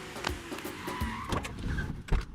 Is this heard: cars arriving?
yes